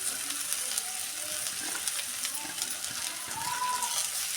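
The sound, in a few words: radish frying in oil with chili powder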